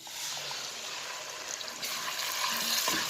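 Tomato and green chilli paste hisses and sizzles steadily in hot oil with cumin, a close, even frying sound with faint stirring near the end.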